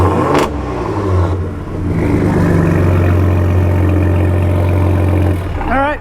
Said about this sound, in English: don't want to rev too long because I haven't broke them in yet, but they are gonna drastically improve the performance and the sound